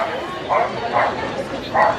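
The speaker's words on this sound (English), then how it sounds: "That dog wants his din-dins." A hungry dog on a London street whimpers and gives short yelping barks in three or four bursts, moderately close amid outdoor background noise.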